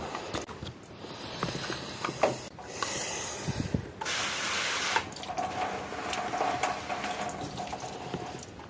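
Water splashes and hisses in bursts while watering garden plants and cuttings, with a louder steady spray in the middle and a continuous trickle after.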